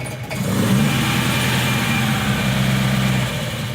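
A Volvo engine fitted with carburetors, Weber or Mikuni, idles close by with a steady, even low rumble that holds smoothly throughout after a brief rough catch at the start, with no voices.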